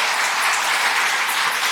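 A church congregation claps together in thanks during a Sunday worship service, a dense, steady wash of applause that stays even and fairly loud from start to finish, with no voices on top.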